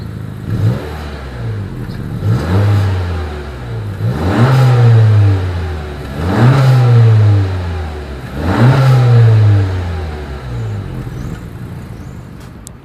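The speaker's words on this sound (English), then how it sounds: "As always, here is that exhaust clip." A 2020 Honda Accord's exhaust revs up and settles four or five times in a steady rhythm, each surge loud and close before dropping back to idle.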